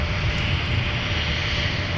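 A jet airliner roars steadily during takeoff from runway 17 at MSP airport, a loud, continuous broadband engine rush heard from a distance without talk.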